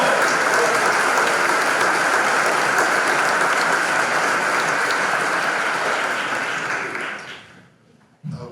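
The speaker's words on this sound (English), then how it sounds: "Can we give a round of applause to faculty," Sustained applause from a ceremony audience at a law school honors and awards event, dense and loud for several seconds before tapering off into quiet.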